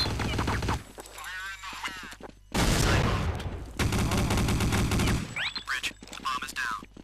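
Gunfire in the video game Counter Strike Condition Zero comes in loud bursts, with a dense volley in the middle and more shots toward the end, separated by quieter stretches where in-game voices and talk are heard.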